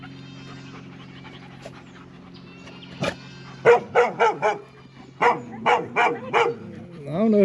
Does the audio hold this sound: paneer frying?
no